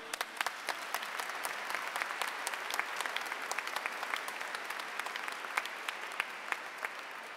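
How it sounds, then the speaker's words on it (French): Congregation applauding at a church confirmation service on the seventh Sunday of Easter: steady, sustained clapping from many hands fills the whole stretch, with sharp individual claps standing out, moderately distant and without talk. "Nous applaudissons."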